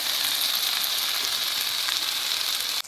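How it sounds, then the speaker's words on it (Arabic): Okra sautés in a hot pan, giving a steady, loud, close sizzle and frying hiss that continues without a break and cuts off sharply at the end. "وانزل بالباميه بتاعتي اشوحها"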